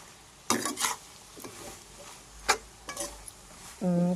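A spoon stirs a bitter gourd mix with chili powder, roasted gram, shallots and coconut in a pan, producing intermittent scrapes and clinks over a faint sizzle, ending with a short tonal clank of metal.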